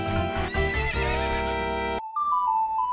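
A horse neighing in the video game Ocarina of Time: a loud, rich whinny over a musical game soundtrack, then a brief pause before a few sustained game tones.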